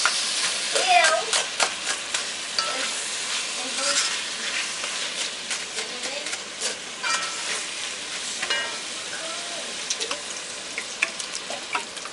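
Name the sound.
coconut milk added to cornmeal and spinach cooking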